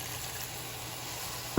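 Steady hiss of water pouring or running into a pan, continuous and fairly close, ending with a brief knock.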